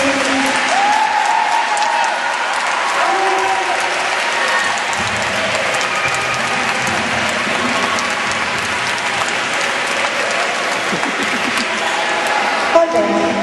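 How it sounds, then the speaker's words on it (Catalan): Audience applause at a school Christmas concert, steady dense clapping from a crowd that fills the whole stretch, with some voices murmuring underneath. "Un aplaudiment per ell."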